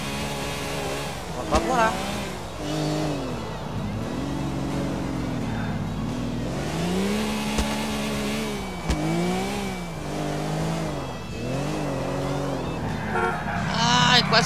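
A car engine in the video game GTA IV revs and climbs through gears in repeated rising and falling surges, loud and close, while someone talks over it throughout.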